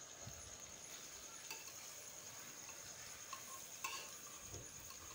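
Masala rice with spices and Indrayani rice being stirred in a cooker, soft scraping and gentle sizzling with light metallic ticks from the utensil against the pot, quiet and steady throughout.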